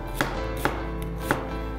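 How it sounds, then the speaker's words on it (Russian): A knife chops an onion on a board with three crisp close strikes spaced unevenly, with a soft kitchen hum between them. "Нарезаем лучок."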